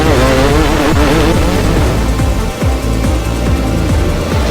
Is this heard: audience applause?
no